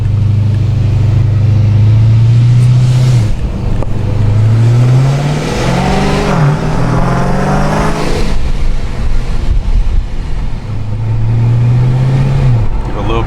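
A Scat Pack car engine with a Procharger F1A94 supercharger revs loudly up close, its pitch climbing and dropping several times, with a rising whine layered over the deep rumble.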